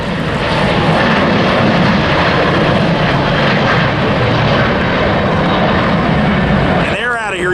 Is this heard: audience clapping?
no